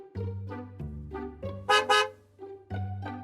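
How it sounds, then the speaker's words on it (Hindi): A car horn honks in a series of short and longer blasts, loud and close, with brief gaps between each burst. "ये हॉर्न आखिर किसने बजाया?"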